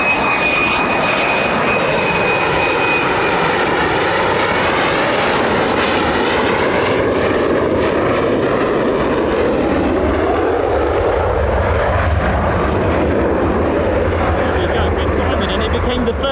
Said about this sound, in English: here's the F-35